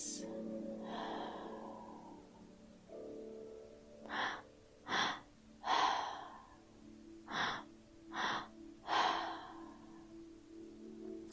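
Deep breathwork breaths, slow audible inhales and exhales repeating in an even rhythm, close and fairly quiet, with a soft tonal hum underneath and no talking.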